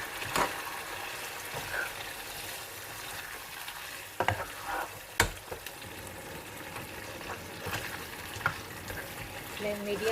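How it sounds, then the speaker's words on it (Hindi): Chicken and onions frying together in a pan over a flame raised from medium toward high, giving a steady close sizzle with occasional stirring scrapes and clatters, no voices. "तो प्याज को 2 से 3 मिनट भूनने के बाद मैं इसके अंदर ऐड करूँगी चिकन।"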